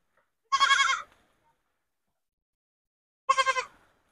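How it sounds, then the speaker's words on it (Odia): A goat calling for its mother bleats twice, two short nasal cries separated by a few seconds of silence, clear and close. "ଗୋଟେ ଛେଳି ଛଡା ଆଜି ଖାଲି ମେ ମେ ମେ ମେ ହଉଛି ତା ମାକୁ ଖୋଜୁଛି"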